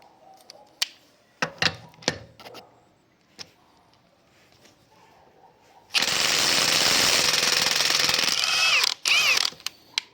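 A Ryobi RIWH18X cordless impact wrench whirs loudly and continuously for several seconds loosening a bolt, cutting off briefly near the end, after a stretch of scattered clicks and taps.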